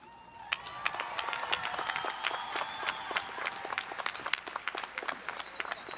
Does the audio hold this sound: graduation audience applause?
yes